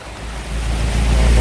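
Floodwater from Typhoon Noru surges through the flooded streets of Wang Saphung, a steady, loud roaring wash with strong low rumble and no voices.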